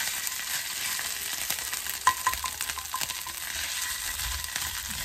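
Salad dressing simmering in a pan, a soft continuous bubbling sizzle with a few clicks and light scrapes of a utensil, fairly quiet and close, no talking.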